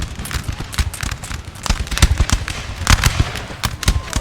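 Musket volleys in the Napoleon: Total War multiplayer battle crackle as dense, irregular bursts of sharp shots, overlapping rapid pops that stay loud and rolling throughout.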